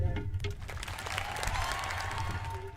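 Stadium crowd at a Torrance High School graduation clapping steadily, a broad wash of applause with faint cheers mixed in, sustained for a few seconds at moderate distance.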